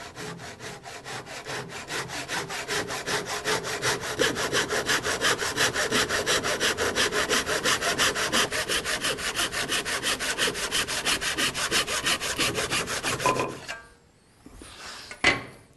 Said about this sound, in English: I just use a nice sharp dovetail saw and make sure that I always cut towards the moulding